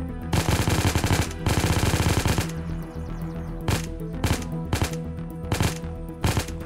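Rapid bursts of automatic gunfire in the survival game Unturned, two long loud volleys followed by a string of single sharp shots at a steady pace, close and dominant with no talk.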